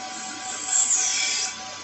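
A lathe takes a final cut on a bushing: a faint steady machine whine with a brief high hiss of the cutting tool rising and fading over under two seconds.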